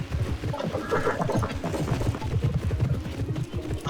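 Horse hooves clip-clop steadily in a rhythmic gait while riding in the equestrian video game Alexandra Ledermann, close and continuous across the whole stretch with no talk over it.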